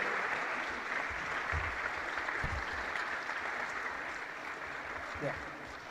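Staff at an end-of-year retreat and awards ceremony give a sustained round of applause, a steady wash of clapping with a few low thumps and murmured voices underneath.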